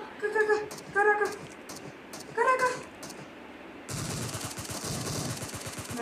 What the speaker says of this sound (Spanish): ¡Ay! ¡Me están disparando!